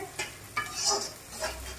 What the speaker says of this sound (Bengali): পেঁয়াজটাকে আমি আরেকটু ভেজে নিই।